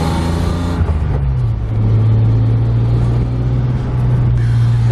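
A drift car with fresh wheel bearings drives off and accelerates, its loud engine droning steadily from inside the cabin as the pitch settles into a sustained rising hum, with no talking.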